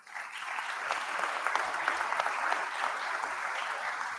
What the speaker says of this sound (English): How about one more big round of applause for the artists, the craftspeople, the folks who made this day possible.